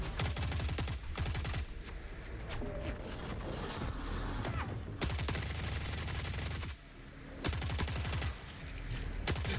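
Rapid bursts of grenade launcher and heavy gunfire in the video game Forever Winter, loud and continuous with dense repeated blasts and short gaps between volleys.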